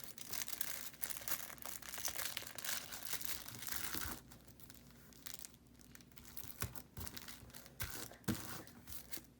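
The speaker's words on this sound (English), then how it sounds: "just wrap the card in the tinfoil" Crinkling and crumpling of tinfoil wrapped around a card, followed by tape being torn and pressed on; close, dense rustling bursts with a quieter stretch midway.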